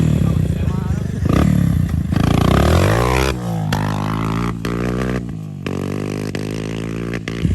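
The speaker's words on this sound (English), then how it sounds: "That might be a rev limiter" A Suzuki LTZ 250 ATV engine bouncing off its rev limiter, a loud, close, buzzing drone that holds high and then pulses unevenly as it cuts in and out, with people talking over it.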